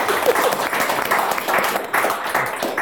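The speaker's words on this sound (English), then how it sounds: "I think that deserves a round of applause" Audience clapping at a panel discussion on Space Invaders, a steady wash of many hands applauding with slight swells, moderately close, with faint crowd murmur underneath.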